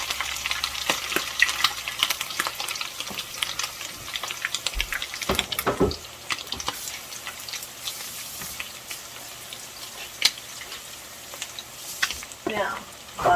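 Maryland crab cakes fry in a pan with a steady, close sizzle, broken by a few sharp clatters and scrapes of stirring or turning.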